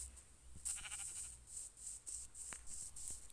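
A goat in a survival video game bleats once in a short, wavering cry, then quieter bleats and faint clicks follow over a low background hum.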